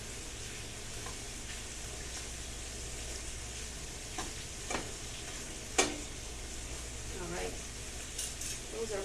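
Shrimp sizzling in a frying pan for pesto shrimp, a steady crackling fry throughout with occasional utensil clinks and scrapes as they are turned, fairly close and moderately loud.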